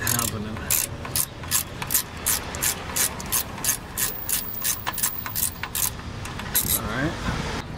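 A socket wrench ratchets off bolts on a 2007 Honda CR-V during head gasket work, giving rapid repeated clicking strokes in a steady rhythm, close and fairly loud, with some background noise.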